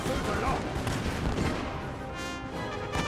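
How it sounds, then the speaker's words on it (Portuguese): Heavy bursts of gunfire and booming cannon shots rattle continuously in a Napoleon: Total War battle, loud and overlapping, with sharp crashes near the end. "Tiroteio vai comer. Vou mirar com os canhões aqui."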